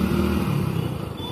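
A motorcycle or car engine roars close by on a road, a loud throaty pass lasting about a second that fades slightly, with no talking.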